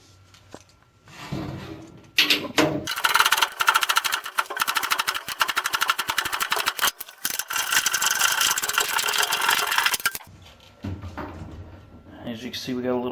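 A washing machine running off balance wobbles and rattles for several seconds, a dense loud mechanical clatter that stops abruptly, with quieter handling noises before and after.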